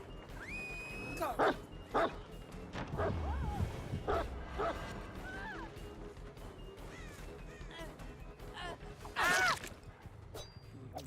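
A killer's dog in a horror video game barks, yips and whimpers in repeated short bursts, some close and loud, with a tonal game sound and a low thump early on.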